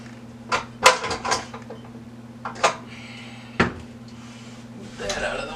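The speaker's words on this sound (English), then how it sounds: "Take my bowl off of here." Metal mixing bowl for cheesecake batter lifted off a stand mixer and set aside: a few sharp clanks and knocks close by, separated by short pauses, over a steady low appliance hum with brief talking.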